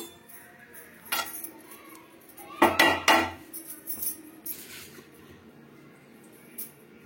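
A spoon scrapes and clinks against a pan while fried rice bran mixed with cashews, peanuts and sesame is moved onto a plate, a few sharp metallic knocks in a cluster among quieter scrapes.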